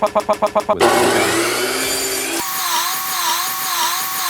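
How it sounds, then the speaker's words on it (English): A power miter box saw cuts wood: a quick series of rhythmic pulses gives way to a loud, steady whining cut that shifts pitch partway through, close and sustained. "Now, the power miter box."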